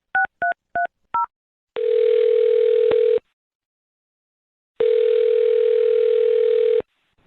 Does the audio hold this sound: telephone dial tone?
yes